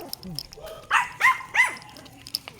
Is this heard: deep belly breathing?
no